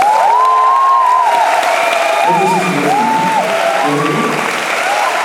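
At a concert by a vocal duo, the audience gives steady, full applause for the music director, with scattered cheers and whoops rising above the clapping throughout.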